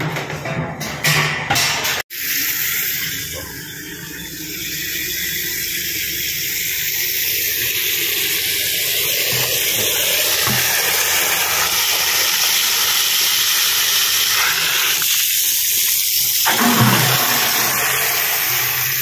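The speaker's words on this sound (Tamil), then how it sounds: "ஆனால் இன்னைக்கு வந்து தண்ணி வந்துருக்கு" Water gushing steadily from a street water pipe, a continuous broadband rush with hiss that holds fairly loud for most of the stretch after a brief clatter near the start, with no voices.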